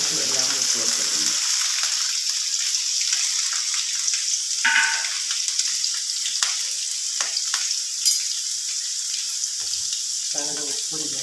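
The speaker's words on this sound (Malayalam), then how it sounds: "വഴറ്റാനായിട്ട് ഞാൻ കുറച്ച് വെളിച്ചെണ്ണ ചീനിച്ചട്ടിയിൽ ഒഴിച്ചിട്ടുണ്ട്. ഇതിലോട്ട് അരിഞ്ഞ് വെച്ചിരുന്ന ഉള്ളി, വെളുത്തുള്ളി, തേങ്ങാക്കൊത്തും എല്ലാം ഇട്ട് കൊടുത്തിട്ടുണ്ട്." Chopped onion, garlic and coconut pieces sizzle in coconut oil in a pan, a steady close frying hiss with occasional stirring scrapes and brief spoon knocks.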